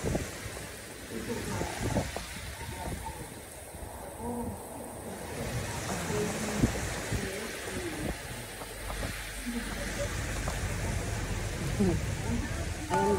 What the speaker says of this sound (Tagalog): so lakas na ng hangin at saka ulan po guys